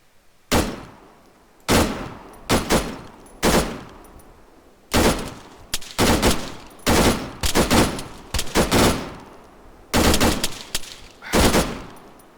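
Loud, close gunfire from the video game Arma 3, with sharp single shots and short bursts spaced irregularly, each shot trailing off in a decaying echo.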